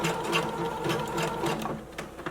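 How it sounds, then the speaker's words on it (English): A sewing machine stitches forward on an elastic-waist maxi skirt, a fast, steady mechanical whir with rapid needle clatter, loud and close, slowing slightly toward the end, with no talking. "Sew forward one more time."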